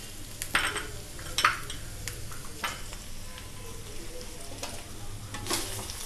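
Mutton for a green chilli garlic roast is stirred in a pan with cumin, coriander, black pepper and cinnamon powders, giving a soft sizzle under irregular scraping and clinking strokes of a spoon against the pan.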